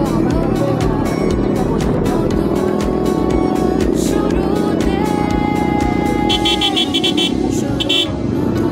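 A large group of motorcycles rides together along a road, engines roaring loudly and continuously up close, with car and bike horns tooting in bursts and voices in the mix.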